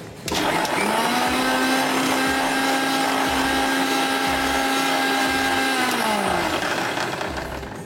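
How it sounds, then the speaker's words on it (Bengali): A kitchen blender whirs in a quick burst while mixing a pomegranate drink with soda water, its loud steady motor whine running for about six seconds before spinning down, with no talking. "আমরা ফাইনালি একটা কুইক ব্লেন্ডিং করে নিলে আমাদের জন্য ভালো।"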